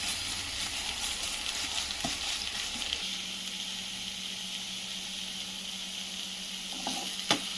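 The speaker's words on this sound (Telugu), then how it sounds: "ఈ అల్లం వెల్లుల్లి పేస్ట్ వేసి పచ్చి వాసన పోయే వరకు మంచిగా ఫ్రై చేయాలి" Ginger garlic paste frying in hot oil for a jackfruit biryani, a steady broad sizzle running throughout with occasional scrapes and clinks of a stirring spoon in the pan, no voices.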